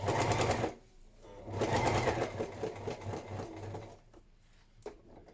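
A sewing machine stitches fabric for a padded patchwork journal cover in several stop-start bursts: a short run, a longer one, then brief spurts, all fairly quiet and close, with no talk.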